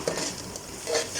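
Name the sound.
stirring and frying garlic and ginger in a pot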